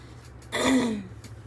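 A single short throat clear, a rough gravelly rasp lasting about half a second, close and fairly quiet.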